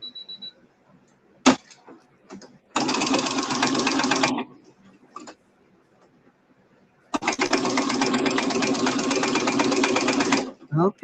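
A sewing machine stitches a quilted tote in two sustained bursts, each running a few seconds, with quiet pauses, clicks and brief talk between runs.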